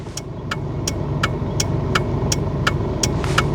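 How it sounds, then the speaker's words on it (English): The turn indicator of a 1.5 automatic Mitsubishi ticks in a steady, clanky rhythm, about three clicks a second, over the low hum of the idling engine. "That's a weird indicator noise."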